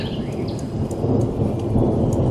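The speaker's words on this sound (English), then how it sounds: "Can you hear the thunder?" Deep, rolling thunder rumbles steadily through a heavy downpour, with rain hissing on surfaces close by.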